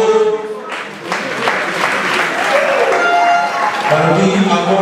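Applause from wedding guests swells in the middle of the stretch, a broad patter of clapping blended with music and crowd noise, fairly loud and close.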